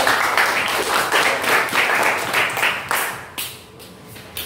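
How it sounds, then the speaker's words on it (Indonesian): Group 1 receives a classroom round of applause: dense, steady clapping from many students that carries on for several seconds, then thins into scattered claps near the end. "Berikan tepuk tangan dulu untuk kelompok 1."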